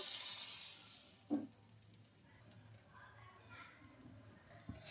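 Oats and moong dal dosa batter sizzles on a hot pan, with a steady hiss that is strongest at the start and fades under a few soft scrapes and knocks.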